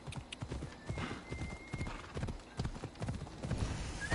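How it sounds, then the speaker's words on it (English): Horse hooves clip-clop in the video game Assassin's Creed Odyssey, a quick, uneven run of soft, close hoof strikes over a low game ambience. "How'd the horse get over here?"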